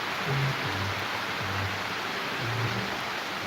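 Steady broadband rain hiss pours down in a video game, with a low musical drone underneath that rises and falls every second or so.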